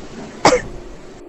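A single sharp cough, close and brief, against a faint background hum.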